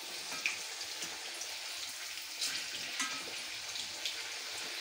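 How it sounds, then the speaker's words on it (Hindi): Potatoes fry in a pan with a soft, even sizzle, joined by a few light clicks and taps as they are turned, fairly quiet and close with no one speaking. "इसको हम फ्राई करेंगे, नीचे ऊपर करके आप सेक ले इसको।"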